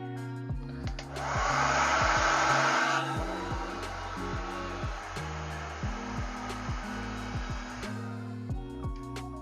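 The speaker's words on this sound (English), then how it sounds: "I'm going to blow dry it for about 30 seconds to heat up that adhesive" A hair dryer blows steadily on the adhesive of a Sena 50S mount for a Shoei RF-SR or RF-1200 motorcycle helmet, a loud continuous whoosh from close by that runs for the whole stretch after a short start-up, with some faint handling knocks underneath.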